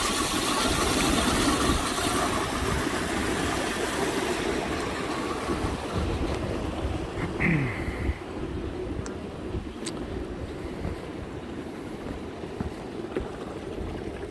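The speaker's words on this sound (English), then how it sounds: "Everything is bubbling and boiling here." Sulfur hot springs at Seltún, Iceland, bubble and boil in a continuous roaring hiss. It is loudest at first, then eases slightly, with occasional brief pops over outdoor wind.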